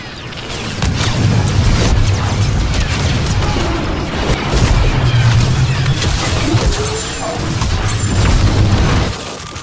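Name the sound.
cannon artillery fire, from a video game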